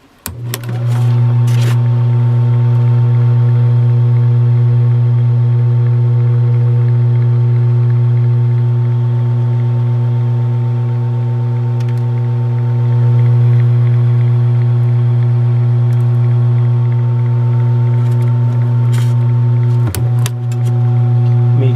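A Sears Roebuck 42-inch flush mount ceiling fan runs with a steady, loud motor hum and strong even tones, unchanging throughout, with a brief dip near the end.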